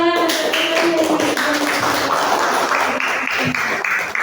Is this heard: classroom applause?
yes